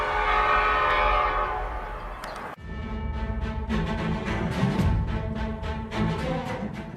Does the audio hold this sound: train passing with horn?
yes